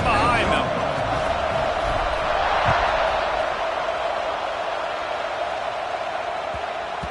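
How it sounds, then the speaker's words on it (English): Stadium crowd at a college football bowl game between Indiana and Oregon, a steady loud roar of fans cheering ahead of the kickoff, continuous and broad throughout with faint broadcast commentary underneath. "They're set to kick it off, and this crowd now ready to get behind them"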